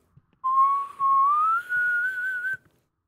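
A single person whistles a slow, clear tune in a quiet room, a few sustained notes gliding gently upward with brief breaks between phrases, with faint clicks before and after.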